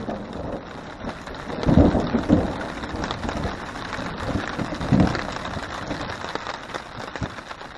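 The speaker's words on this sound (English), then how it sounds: "There's a whole new round of thunder going on." Thunder rumbles through a steady downpour at a lakeside campsite in Algonquin Park, with heavy rolls around two and five seconds swelling over continuous rain pattering on a tarp and tent.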